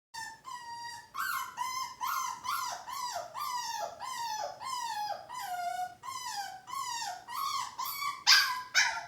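A puppy shut in a crate on its first night whines and yelps repeatedly in high, rising-and-falling cries, close and fairly loud, in an otherwise quiet room.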